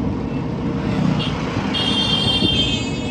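Road traffic on Dindori Road in the rain: a steady wash of passing vehicles and wet road hiss, with a faint high tonal beep partway through, continuous and moderately loud, no voices.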